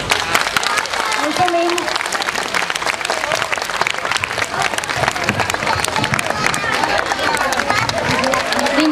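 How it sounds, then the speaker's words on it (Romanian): Audience applause at an Alexandria city celebration, a steady dense patter of clapping under crowd babble and a speaker's voice, fairly loud and sustained throughout. "am vrea să știți că e voie să și aplaudați"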